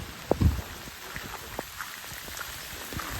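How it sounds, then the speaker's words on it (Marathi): A downpour on a forested hill trek near Bhimashankar makes a continuous soft wash of rain, with a few close thumps and drips near the start. "मुसळधार पाऊस."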